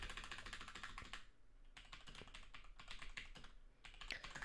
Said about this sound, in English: manual keyboard here with its big ass keys is just like a bitch to type on